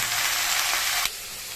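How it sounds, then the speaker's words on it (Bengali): Vegetables sizzling in a hot pan, a steady bright hiss that drops off abruptly near the end, with no talking. "বন্ধুরা আমার সবজিটা ফ্রাই হয়ে গেছে"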